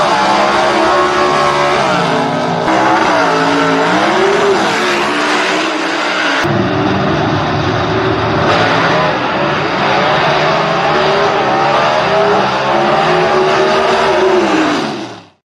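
Gasser drag race cars in the A/Gas class roar hard off the line at a Southeast Gassers Association event. The engines drone loudly and without a break for about fifteen seconds, with the pitch swelling and sagging, and no one speaks.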